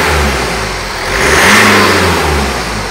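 A BMW F20's engine is blipped with the throttle, rising from a steady idle into a quick rev that peaks and falls back, loud and close with no voices.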